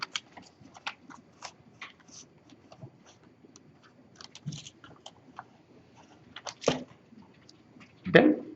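A paper architectural model being handled and taped back together: sparse close crinkles, taps and light paper rustling, ending with a louder rip of tape.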